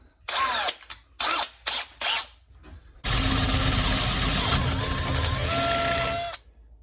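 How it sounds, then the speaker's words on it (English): Power drill boring a 3/8 inch hole through metal while building a forge burner mount: several short bursts of whirring, then one long loud continuous run that stops abruptly. "What we're going to try to do is just drill this hole out oversized."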